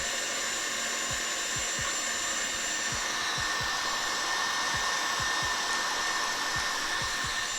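An electric mixer runs at speed 8, whipping tres leches cake batter with a steady, loud motor whir throughout and faint low thumps recurring underneath.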